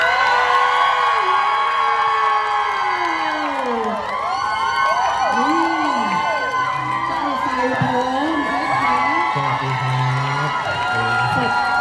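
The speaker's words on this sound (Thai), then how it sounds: "ขอเสียงกรี๊ดดังๆ ให้กับคุณลีโออาทิตย์ดังๆเลยค่ะ" A large crowd screams and cheers loudly and continuously, with high-pitched shrieks and whoops rising and falling throughout.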